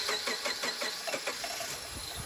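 A Subaru car engine cranking on its starter with no power, a steady rhythmic churning of fast, even turnover pulses, close and continuous, without catching.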